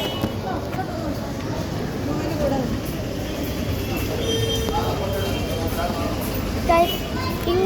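A train at Kozhikode railway station gives a continuous low rumble with faint clatter in a busy platform setting, while people and children talk nearby over it.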